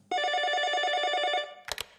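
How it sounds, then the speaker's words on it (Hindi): A telephone rings with one long trilling electronic burst, followed by two short clicks, clear and close against a quiet background. "और तभी अचानक 25 साल बाद बड़ी बुआ का फोन आता है"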